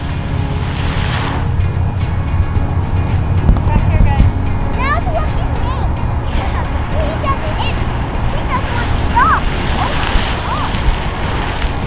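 Jewel Geyser in Yellowstone erupts with a loud, continuous roar of shooting water and steam, a steady close rush with faint voices in the background.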